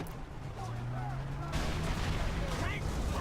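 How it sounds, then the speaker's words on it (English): Explosions in the Far Cry 3 video game boom with dense, rumbling bursts, the roar swelling louder midway and running continuously under a player's talk. "Cool guys, don't look at explosions."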